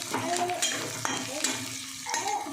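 Turmeric powder and coriander leaves fry in hot oil in a pan, a steady close sizzle with light stirring scrapes and a few louder clatters, no talk over it.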